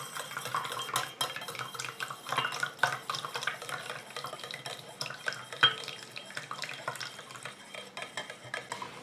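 An oil phase and a water phase are stirred together for an oleo-calcareous liniment, with continuous close scraping and clinking of a utensil against the container and no voices.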